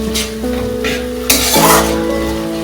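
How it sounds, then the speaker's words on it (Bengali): Spice paste sautéing in oil for a spicy mustard curry with Lailentika fish, a steady close sizzle with a spoon stirring and scraping the pan, and a brief louder clink or scrape partway through. "এইভাবে আমি কষতে থাকবো আরো 2-3 মিনিট।"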